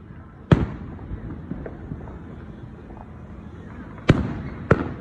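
Neighborhood fireworks explode in sharp, loud bangs: one early crack, a stretch of crackling and distant pops, then two more close blasts near the end.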